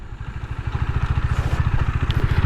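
KTM Duke 390 BS6 motorcycle ridden in fourth or fifth gear over a speed breaker, its single-cylinder engine a steady loud rhythmic thrum with faint clatter, close and continuous with no talk.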